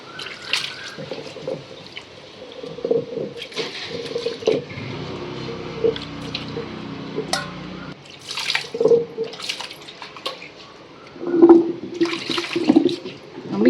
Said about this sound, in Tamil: அம்மியை நல்லா கழுவிக்கலாம்